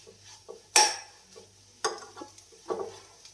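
A steel spoon stirs and scrapes inside a non-stick pan in a home kitchen, giving one loud scrape followed by a few softer clinks and rubs at an unhurried pace, with no talking.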